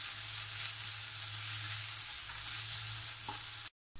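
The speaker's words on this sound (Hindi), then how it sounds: "प्याज को हमें ब्राउन नहीं करना है, बस थोड़ा सा हल्का फ्राई करना है।" Onions with ginger-garlic paste lightly frying in a pan for butter chicken, a soft steady sizzle with a low hum beneath, ending in a brief silence.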